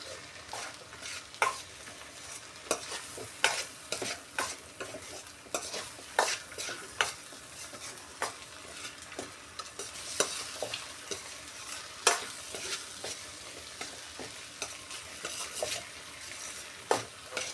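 Coconut powder dal being stirred in a pan, a utensil scraping and clacking in irregular bursts over a steady frying sizzle, close by with no voices.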